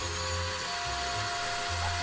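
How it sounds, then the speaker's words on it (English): A power drill spinning an ear of corn on the cob, a close whining motor hum that dips and surges as the load changes, heard alone. "You don't put it on a drill."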